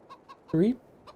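A video game hen in Farming Simulator 22 gives a single short, loud cluck among faint quieter clucks and chirps, with no one talking.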